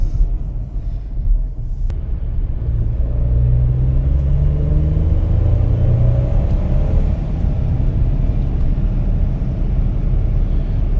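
A 2025 Ford F-150 pickup under way, a loud, deep engine rumble and road roar throughout, with a tone that climbs as the truck accelerates, heard from inside the cab with no talking.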